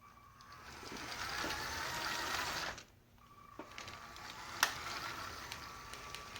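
A Lego L motor drives a Lego steam train in a steady, faint whirring hum that stops briefly, then resumes with light clicks and ticks of the toy locomotive.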